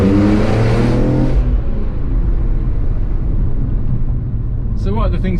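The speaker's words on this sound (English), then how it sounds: "It's just pure engine noise." A naturally aspirated BMW M3 CSL engine revs hard and loud up close, then settles into a steady deep rumble, with a brief voice at the end.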